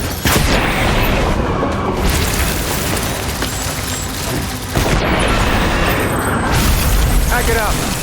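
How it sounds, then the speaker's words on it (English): Grenade blasts in the video game Death Stranding on a beach: loud, rumbling booms and heavy bursts that fill the scene, with a fresh blast near the middle and voices shouting underneath. "Grenade!"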